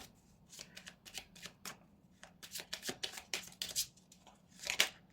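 Tarot cards are shuffled and drawn by hand, giving quick close riffles and soft slaps in irregular bursts against a quiet room with a faint low hum.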